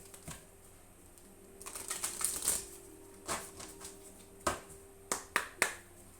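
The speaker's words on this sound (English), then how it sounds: "I'm going to shuffle one more time." A deck of cards is shuffled close by, a few soft riffling rustles followed by several sharp card snaps and taps toward the end, fairly quiet overall.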